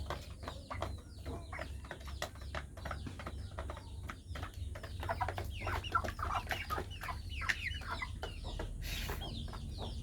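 Pet chickens at home cluck in a steady stream of short, busy calls, close by and continuous over a low background hum, with no talking.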